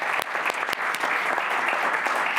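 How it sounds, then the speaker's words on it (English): A council meeting audience gives a round of applause, dense continuous clapping from many hands in a hall, steady and moderately loud throughout. "Can we give them a round of applause?"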